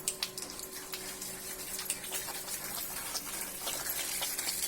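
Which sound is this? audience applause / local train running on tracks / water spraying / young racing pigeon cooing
water spraying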